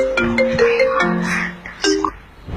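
Phone ringtone from an incoming call, a short melodic tone pattern repeating over about two and a half seconds, fairly loud and close with no talking.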